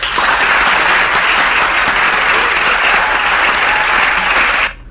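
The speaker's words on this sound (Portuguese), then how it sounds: "queria dar uma salva de palmas para os nossos idosos." A dense, loud round of applause from an audience honoring the elderly, steady clapping that continues evenly for several seconds and then cuts off abruptly.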